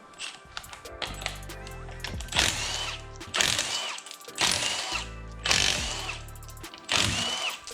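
Lug nuts being removed from the front wheel of a Scion FR-S resting on jack stands, with five loud ratcheting, whirring bursts of a power tool separated by brief pauses, close up and with no talk.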